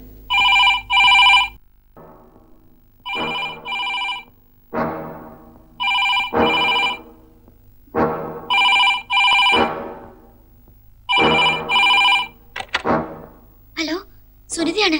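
Cordless telephone ringing indoors in a Malayalam comedy film scene, loud repeated double-burst electronic rings in a steady pattern, with people talking between the rings.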